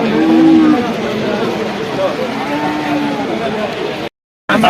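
A bull lows in drawn-out moos, a couple of times, amid busy outdoor crowd noise at a cattle market before a brief cut to silence.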